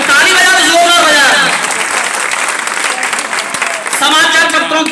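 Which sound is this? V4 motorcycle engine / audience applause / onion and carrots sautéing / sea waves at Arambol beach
audience applause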